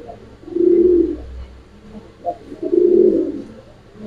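Giribaz Pakistani high flyer pigeons coo twice in soft, low murmuring bursts close by, with a brief pause between them and no talking.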